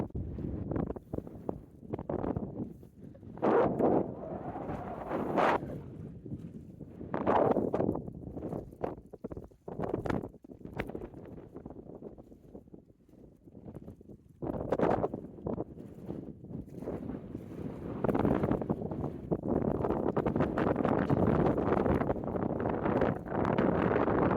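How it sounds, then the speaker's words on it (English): Gusty wind buffets the microphone in uneven roaring bursts, rising and falling throughout with no voices. "It's a bit windy."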